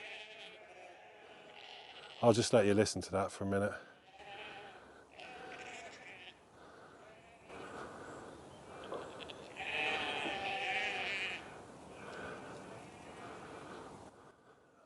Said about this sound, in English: Don't know if you can hear the sheep.